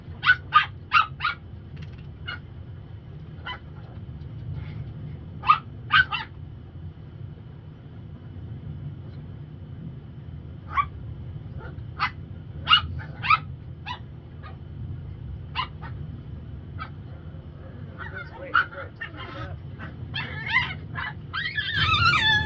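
Two puppies play together, giving scattered short yips and barks in clusters over a steady low background hum, close by, with a denser burst of excited yapping near the end.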